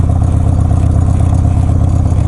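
Harley-Davidson Sportster 74ci motorcycle engine idling after the choke is turned off, a loud, steady, close low rumble with even rapid pulsing and no talk.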